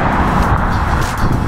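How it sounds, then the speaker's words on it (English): Road traffic along Cook Street in Palm Desert, California: a loud, close, continuous roar of passing cars with a broad rumble that never drops away. "the traffic's kind of loud"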